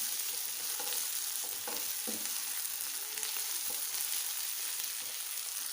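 Okra masala with green chilies and fresh coriander sizzling in a pan, a continuous frying hiss with occasional stirring clinks, close and moderately loud, with no talking.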